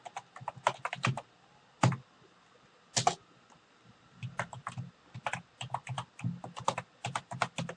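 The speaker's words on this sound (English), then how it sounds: "You'll notice that as you type your password" Typing a password at a login prompt on a computer keyboard during an Ubuntu Server installation: close, crisp key clicks in uneven bursts with short pauses, no voices.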